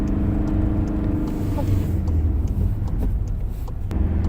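A car engine hums steadily through a gear change into second during a driving lesson, a continuous low drone with slight shifts in pitch and no sharp revving.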